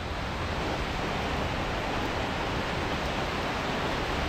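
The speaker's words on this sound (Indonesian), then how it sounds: "Hujan lebat guys." Heavy rain with strong wind, a steady, even wash of broadband hiss that fills the scene without a break for several seconds, with no voices.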